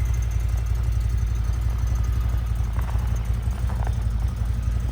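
A 2023 CFMoto UForce 1000 side-by-side idles close by in winter snow, its engine putting out a steady, rhythmic low thrum with a faint knocking pulse, alone and without talk.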